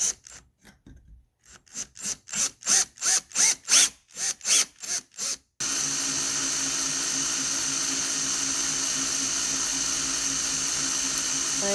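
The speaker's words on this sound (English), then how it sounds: "I'm using a 5/16 drill bit." A 5/16 drill bit bores through a tumbler, first in a series of about a dozen short rhythmic bursts, then one loud continuous whine that runs steady to the end, close and alone.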